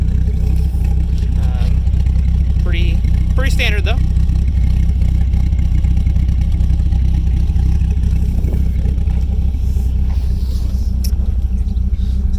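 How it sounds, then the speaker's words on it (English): A 2004 Dodge Viper SRT-10 with a Borla exhaust idles with a deep, steady low rumble throughout, while someone talks over it close by. "Very, very, very nice sounding car. The Borla Exhaust definitely makes it pop."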